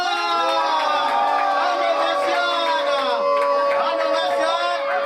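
A crowd at a former students' reunion of a private technical high school gives an ovation, sustained loud cheering, whooping and shouting voices blending into a continuous roar.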